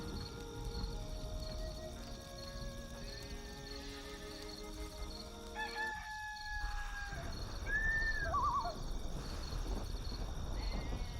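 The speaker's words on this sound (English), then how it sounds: "This rooster wakes me up every single day." A rooster in the video game Black & White 2 crows once in the middle of the clip. A drawn-out call rises over a bed of game music and ambient tones.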